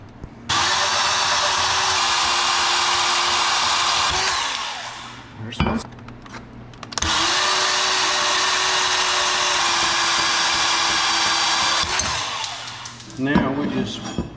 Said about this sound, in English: we're getting ready to cut the bars down